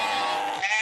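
Sheep bleating, a single sustained wavering bleat close and loud, filling the short moment alone without talk.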